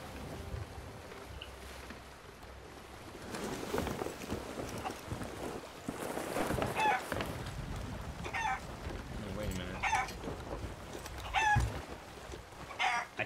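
Chickens cluck in the Sea of Thieves pirate game, heard as repeated short calls at a busy outpost mixed with water and ambient game noise, fairly close and moderately loud.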